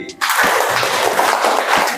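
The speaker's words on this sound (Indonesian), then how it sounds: "Tepuk tangan sekali lagi." A class of seventh-grade students in a school classroom breaks into dense, continuous applause that starts abruptly and stays loud and close for nearly two seconds.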